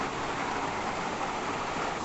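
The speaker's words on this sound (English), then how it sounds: "It seems to start to rain." Steady rain falling in the central mountains of Bali, a dense even hiss with no pauses, fairly loud and close, with no voices.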